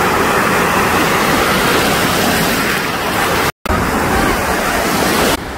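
Ocean surf rolls onto Tamarindo beach in Costa Rica, a dense, constant wash of breaking waves close by with wind noise, continuing after a brief dropout.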